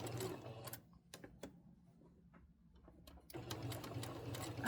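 A sewing machine stitches down a loose quilt seam, running in steady close bursts at the start and again at the end, with a quiet pause and a few light clicks between.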